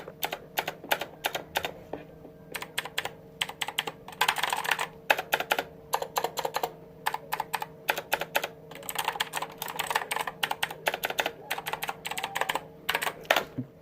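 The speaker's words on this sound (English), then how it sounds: "one thing that entices me, makes me happy that I bought this keyboard, is the sound that it makes when you press on it" An HP GK100F gaming keyboard clacks under rapid typing, in quick bursts of keystrokes broken by short pauses, close and fairly soft with no one talking.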